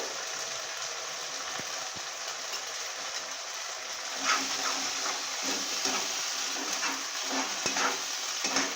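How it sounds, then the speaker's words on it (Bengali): Young jackfruit and shrimp frying in a pan, a steady close sizzle with scattered stirring scrapes growing busier toward the end, no voices. "এটা আমি এইভাবে ভালো করে ভাজতে থাকবো।"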